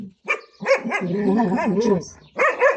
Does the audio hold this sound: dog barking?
yes